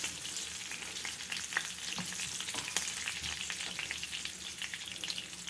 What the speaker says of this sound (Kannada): ಸಾಸಿವೆ ಚೆನ್ನಾಗಿ ಸಿಡೀಲಿ